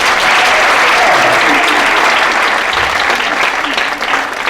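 Sustained audience applause at a comedy show, a steady moderate wash of clapping held at even strength throughout, with scattered crowd noise beneath.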